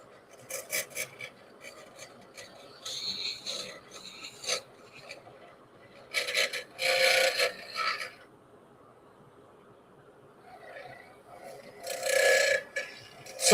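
A sharp knife chatters as it carves a piece that wobbles because it is less stiff than resin, producing intermittent bursts of rasping, scraping cuts separated by short quiet pauses, close and fairly loud.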